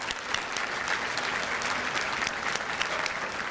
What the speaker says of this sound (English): I just want to give them one more round of applause for the effort for this beautiful event.